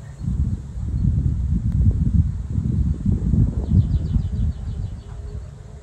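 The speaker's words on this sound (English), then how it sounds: "It's so windy though." Wind gusting outdoors beside beehives, a low, rumbling buffeting that swells and fades, with faint insect buzzing in the background.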